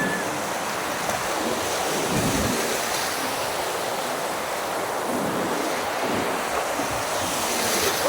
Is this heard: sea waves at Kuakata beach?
yes